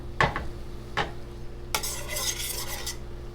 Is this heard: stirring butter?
yes